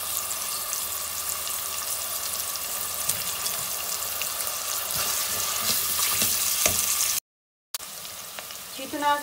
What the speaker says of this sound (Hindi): और इसके अंदर प्याज़ों को डाल देंगे और थोड़ा सा इनको फ्राई करेंगे।